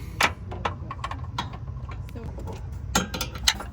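A bolt is slowly unscrewed under a car during a downpipe install, with scattered faint metallic clicks and ratcheting ticks against low shop rumble, a couple of sharper knocks near the end.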